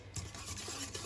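A spoon mixes khaman dhokla batter with water in a bowl, giving a brief, close, wet swishing stir with no talking.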